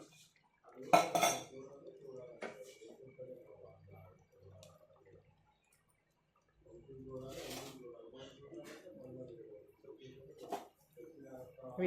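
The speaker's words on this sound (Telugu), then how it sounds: "ఇంకా ప్యాన్ పెట్టుకుని స్టవ్ మీద నేను నెయ్యి వేసుకుంటున్నాను." A pan clanks down on a stovetop amid kitchen clatter and light scraping, then ghee is poured in for tempering raw mango dal, while a voice talks through most of it.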